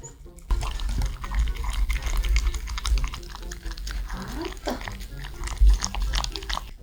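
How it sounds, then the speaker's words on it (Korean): A dog eats food close by, with wet chewing and crunching sounds and a few sharp bites, while a person speaks softly in the background. "맛있게 먹어 봉순이"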